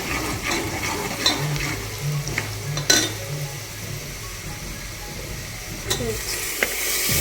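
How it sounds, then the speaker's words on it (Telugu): Sliced onions and green chilies fry in hot oil with turmeric for a Telangana-style goat head curry, giving a steady close sizzle with a few light clinks of utensil on pan. "ఉల్లిగడ్డలు వేగుతున్నప్పుడే పసుపు వేసుకోవాలి"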